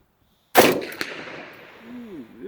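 A single sharp rifle shot from a CAR-15 cracks out at close range toward a target 125 yards away, followed by a long echoing rumble that fades slowly.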